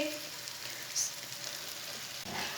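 Green chillies sizzle in hot oil and cooked spices for a quick mixed achar pickle, a steady, soft crackling hiss with a few brighter spatters.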